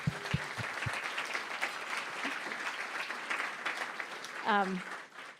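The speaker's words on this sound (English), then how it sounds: "One more round of applause for Danny Kim." Sustained applause from a gala audience fills the room, a dense wash of clapping with a few brief vocal sounds at the start and end.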